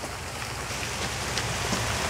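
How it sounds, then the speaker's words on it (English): Small hail pelts a surface outdoors, a dense, continuous hiss of tiny ice pellet impacts with faint scattered ticks, steady throughout and without talk. "No, it's not snow, but it's hail. Really small hail."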